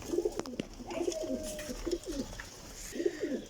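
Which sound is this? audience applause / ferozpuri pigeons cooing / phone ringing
ferozpuri pigeons cooing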